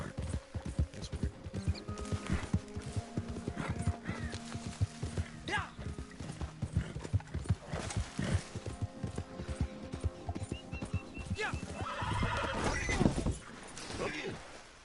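Hooves clip-clop steadily with occasional whinnies from a horse in the video game Red Dead Redemption 2, set among dense game effects, thuds and a constant busy background, with someone talking over parts of it.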